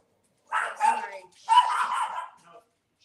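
A small dog barks in a home, two bursts of sharp yapping a second apart, close and fairly loud against an otherwise quiet room.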